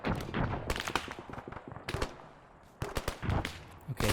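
Rifle and machine-gun fire in the Arma 3 military video game, repeated sharp bursts of shots with a brief lull in the middle, loud and close.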